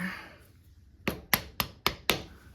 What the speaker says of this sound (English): I don't want to hit it too much with the hammer, but it's not coming up